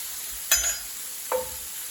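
Two sharp bursts of sizzling as snow peas and squid hit a hot pan for stir frying, the first louder, each fading quickly over a steady background hiss.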